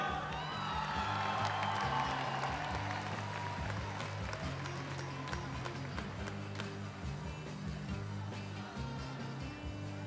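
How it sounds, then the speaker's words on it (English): An audience claps and cheers for association winners at a float and banner awards event, a steady wash of applause with a few whoops over rhythmic music thumping in the background. "Let's have a big, warm round of applause for the winners from the British Columbia"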